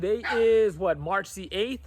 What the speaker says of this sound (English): I know you can hear my dogs over there